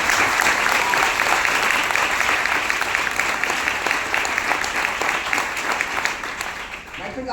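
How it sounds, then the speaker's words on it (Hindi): Loud, sustained applause from a live audience at a motivational talk, dense clapping filling the whole stretch and tapering slightly near the end. "मैं बताऊंगा अभी आपके लिए जोरदार ताली आपके लिए जोरदार।"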